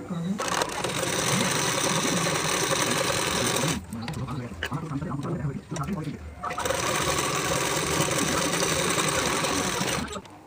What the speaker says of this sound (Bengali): এই সেলাইটি ঠিক এইভাবে ঢাকা দিয়ে এইভাবে রেখে আমরা এর উপর থেকে দুটি সেলাই দিয়ে নেব